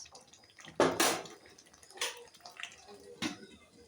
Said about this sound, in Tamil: இப்போ வந்து நம்ம லிட்டு போட்டு க்ளோஸ் பண்ணி வைக்கலாம்